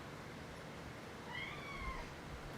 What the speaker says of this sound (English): Y'all hear Jasper down there meow meow